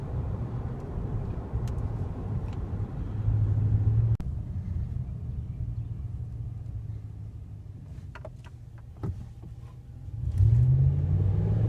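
A 2014 Ram 1500 Big Horn pickup truck is driven, its engine holding a low, steady rumble from inside the cab, with a few brief rises in revs and a louder surge of acceleration near the end.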